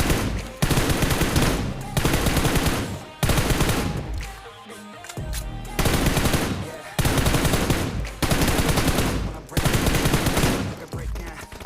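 Rapid automatic gunfire from a mobile shooter video game, loud sustained bursts in several long volleys separated by brief pauses.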